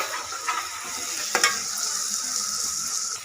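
Mutton coated in ginger garlic paste sizzles steadily in a pan for village-style biryani, with a few sharp scraping stirs of a spoon against the metal, close and unvoiced.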